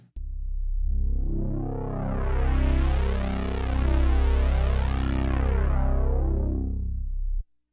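A thick, chorusy Yamaha CS-15 synthesizer tone with pulse-width modulation on both oscillators, sustained and loud for about seven seconds, its harmonics slowly shimmering and sweeping.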